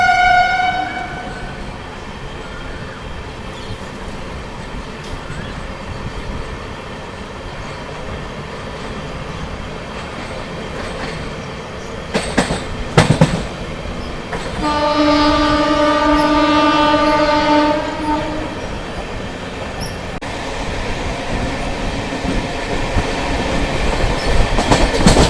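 A Palnadu SF Express with LHB coaches picking up speed on the Guntur–Secunderabad run: a steady rolling rumble with clatter, a pair of sharp bangs midway, then a sustained horn blast before the rumble resumes.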